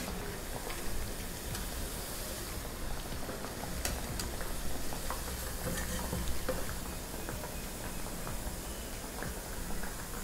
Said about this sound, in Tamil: இது வந்து ஹார்ட்லி லைக் 5 to 10 minutes தான் ஃப்ரை பண்ணணும்.